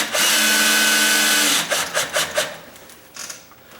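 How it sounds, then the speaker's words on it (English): Battery-operated drill on low speed driving a screw into a sagging door, a steady whir for over a second, then short stuttering bursts as it tightens, loud and close. "I'm going to use my battery operated drill, and I'm going to keep it on low."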